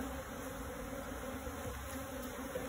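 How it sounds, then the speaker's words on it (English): Honeybees buzzing around an opened barrel beehive, a steady close droning swarm that holds at an even level throughout. "These bees are a little hot."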